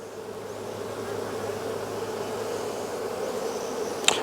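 Honey bees buzz around a beehive, a dense, steady swarm drone close by that swells slightly, with a brief sharp tick near the end.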